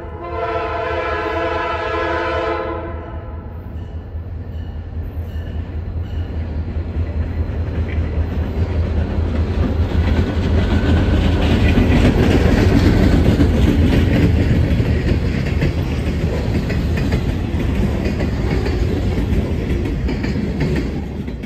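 Former Southern Railway GP40X locomotive 3805 passes with SLR train 512 in January: a loud multi-tone horn for a few seconds, then a swelling, close rumble of engine and rolling wheels that peaks and holds.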